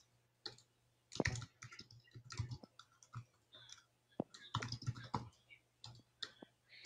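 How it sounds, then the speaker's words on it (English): Close typing on a computer keyboard: irregular bursts of quick soft key clicks and taps with brief pauses, over a faint steady hum. "let me just type that"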